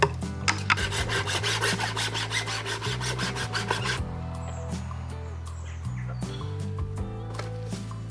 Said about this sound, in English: I cut my pipe now